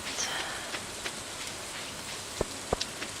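Steady rain falling in the video game Stardew Valley, a dense hiss of close rain on a surface with a few sharp drip-like clicks, no talk.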